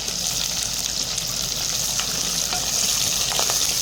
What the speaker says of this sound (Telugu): ఎండుమిరపకాయలు, తెల్లగడ్డ, ఉల్లిపాయలు యాడ్ చేసి ఫ్రై చేసుకున్నాము